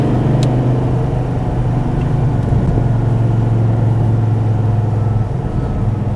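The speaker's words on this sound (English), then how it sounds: "It's a different type of engine sound." A 2014 SRT Viper GTS engine drones with a loud, steady low rumble while driving, holding an even pitch and easing off slightly near the end, with no talking.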